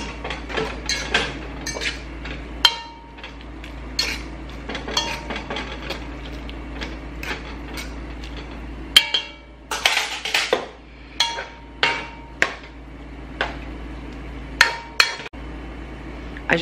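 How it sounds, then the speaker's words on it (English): Chicken teriyaki is stirred in a pan, a spoon clinking and scraping against the metal in quick, irregular knocks, close and clear with almost no talk. "stir it around"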